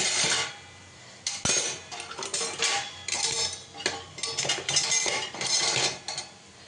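Metal ladles and spatulas are gathered and put away in a kitchen, producing bursts of close clattering and clinking against each other and utensils, separated by short quiet pauses, with no speech.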